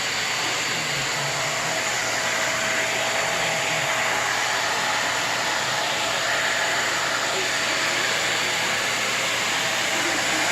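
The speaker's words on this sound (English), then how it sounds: "You like vacuuming?" A household vacuum cleaner runs continuously at close range, a steady loud whine filling the room without pause.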